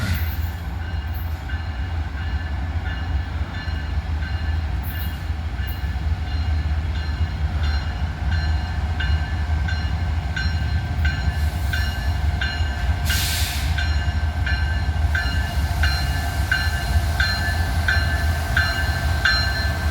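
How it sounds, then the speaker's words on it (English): Trains pass through Abbeville, a continuous loud rumble of rolling railcars with steady wheel noise and brief horn-like tones, with no talk. "So we're going to have a train meet in Abbeville today."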